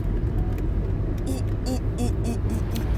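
A car cruising along a road on a family road trip, a steady close engine and tyre rumble with a few brief whooshing swells, no talk over it.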